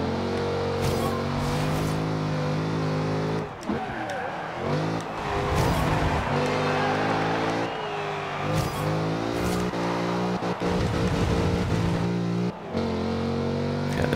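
A super sport race car in Forza Horizon 2 accelerating out of a corner with a loud, steady engine drone that dips briefly at gear shifts, rising again with some tire noise.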